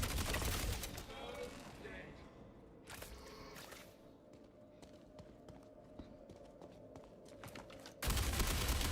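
Gunfire from shooting an enemy in Star Citizen: a dense burst of rapid shots at the start, then scattered sharp cracks at mid-distance, and another loud burst at the end.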